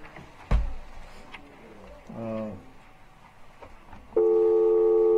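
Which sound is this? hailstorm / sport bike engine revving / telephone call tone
telephone call tone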